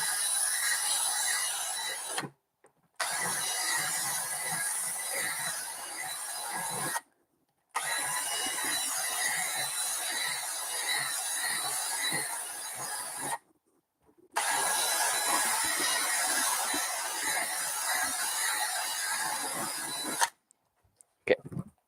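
Steady scraping and rasping as potentiometer holes are widened in a homemade stylophone, in long continuous bursts broken by a few short pauses.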